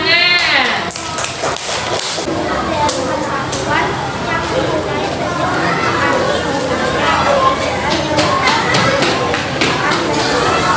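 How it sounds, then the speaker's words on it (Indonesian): A group of students in a school classroom claps for group 1, a loud, sustained burst of rapid clapping with chatter and voices mixed in throughout. "tepuk tangan."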